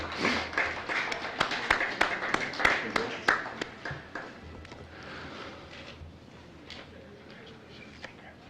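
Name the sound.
applause for sophomores at high school honors ceremony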